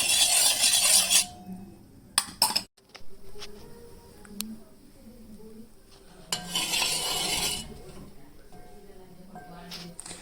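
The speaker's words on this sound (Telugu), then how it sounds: "ఒకసారి ఇలా పోసాక చక్కగా ఈ విధంగా మిక్స్ చేసేసుకోవాలి" A spoon stirs coconut milk mixed with cornflour into milk in a pot, giving bursts of close scraping and swishing with light metal clinks. A voice talks over the quieter stretches between strokes.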